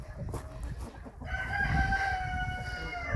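Hungry hens in a coop cluck in short bursts before a rooster lets out a loud, sustained crow close by, with the flock still murmuring underneath.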